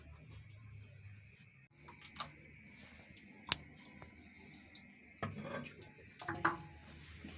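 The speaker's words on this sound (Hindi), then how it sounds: "अब हम चूल्हे पे ये तवा रखते हैं।" An iron tawa griddle is set down on a home stove burner, giving a few sharp metallic clanks and knocks amid low kitchen rumble and faint scraping.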